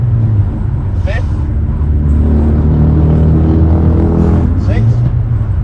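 A BMW E30 M3 with a swapped gearbox drones loudly from inside the cabin as it pulls through the gears, with rising engine tone and brief shift breaks under a voice.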